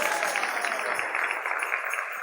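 Congregation clapping together during a church service, a dense, steady patter of many hands filling the room for a couple of seconds with no voices standing out.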